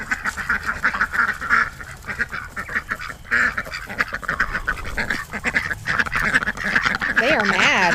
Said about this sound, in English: we had that brief interruption from the ducks going crazy with each other